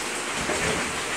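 Heavy, non-stop rain on its fourth straight day, a dense steady hiss of downpour with a faint low rumble beneath, constant and close throughout.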